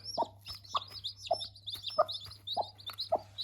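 A broody hen clucks in short, soft, evenly spaced calls close by, while her eight newly hatched chicks give thin high peeps in between, all under a low steady hum.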